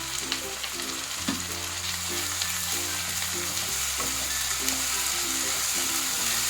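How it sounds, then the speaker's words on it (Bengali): Ginger and garlic paste frying in a pan for a green-masala chicken curry, a close, continuous crackling sizzle with a low hum from a sustained tone beneath it. "আদা আর রসুনটাকে একটু ভালো করে ভেজে নেব।"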